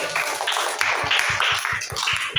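A small classroom audience of teacher-trainee students claps in a loose, uneven patter, moderately near, with distinct individual hand claps spread over a couple of seconds.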